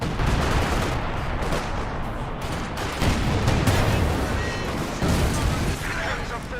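Heavy wartime gunfire from a World War II video game tank battle against a Panzer IV, a dense continuous barrage of loud booms and shots with voices talking throughout.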